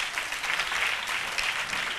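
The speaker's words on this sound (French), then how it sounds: "Vous allez vous applaudir très fort." Children at a holiday launch event in Côte d'Ivoire applaud, a dense, even wash of many small hands clapping at moderate distance for about two seconds.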